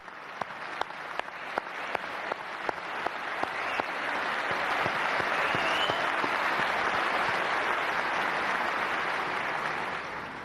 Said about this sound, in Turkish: Onun için biz de sizlere alkışlıyoruz